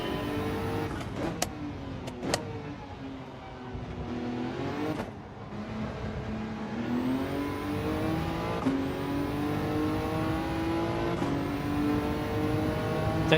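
A race car in Gran Turismo 7 revs hard through its gears, engine pitch climbing steadily and dropping at each upshift, several shifts in a row with no talk.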